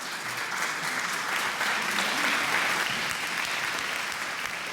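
An audience applauds steadily to welcome a guest speaker at a history talk, a dense, even wash of clapping that swells slightly midway and holds for the whole stretch.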